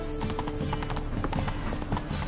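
Horse hooves clip-clopping at a steady galloping rhythm in The Witcher 3 video game, rapid repeated thuds heard close and fairly faint, with no talk over them.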